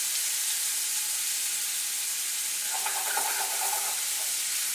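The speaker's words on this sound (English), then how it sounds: "You guys hear that sizzle?" Shrimp sizzling in a hot frying pan, a constant bright hiss with some crackle and popping partway through, close by and with no voices.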